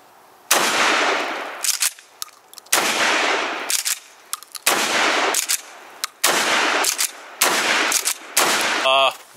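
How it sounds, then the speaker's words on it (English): Akkar Churchill Shockwave shotgun firing buckshot at targets about 8 feet away, five loud close blasts spaced a second or two apart, each with a sharp crack and brief decaying echo. "let's see what kind of pattern we get. So, first shot."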